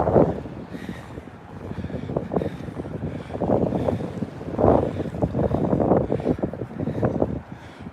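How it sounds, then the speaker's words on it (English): Strong gusting wind buffeting the microphone on an outdoor walk in Brooklyn's Bay Ridge, a continuous low rumbling roar that swells and eases in waves, close and loud with no talking. "Wind definitely picking up as I get closer to 4th Avenue here."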